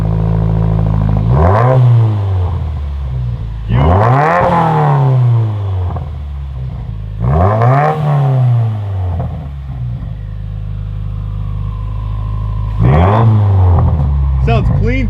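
A Subaru WRX fitted with a new exhaust revs hard three times, then once more, each blip rising and falling in pitch over a steady idle, with voices talking nearby.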